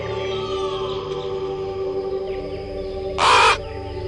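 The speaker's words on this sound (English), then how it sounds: "Cawing from high in the treetops, a clever blackbird watches for food and danger alike." A single loud, harsh caw from a bird high in forest treetops, tagged as a blackbird, rings out once near the end over a steady hum of background insects.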